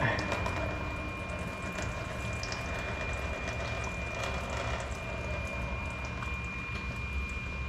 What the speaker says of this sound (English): Try to drain this filter out a little bit.